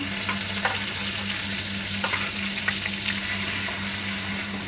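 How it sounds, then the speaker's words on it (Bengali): Grated onion frying in oil in a pan, loud even sizzling with light stirring taps and a faint steady hum underneath, no talking. "পেঁয়াজ আর বাটিনি গ্রেট করে রেখেছি সেটা দিয়ে দিলাম"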